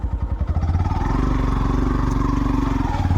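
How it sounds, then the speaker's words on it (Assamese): A motorcycle engine runs loud and close, revving in choppy bursts at first and then settling into a steady, throbbing idle-like drone. "বাইক লৈ আহিছে, বাইক লৈ আহিছে"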